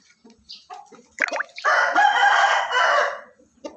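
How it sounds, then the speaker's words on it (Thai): Chickens cluck softly, then a young rooster nearby lets out a long, loud crow, with hens faintly clucking around it. "อันนั้นก็เป็นไก่หนุ่ม ไก่หนุ่มกับไก่ไล่เลื้อ แล้วก็พวกตัวเมีย"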